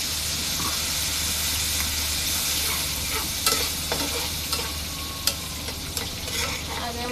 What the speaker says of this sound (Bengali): অল্প পরিমাণে পানি দিয়ে আগে মশলাটা কষায় নেব।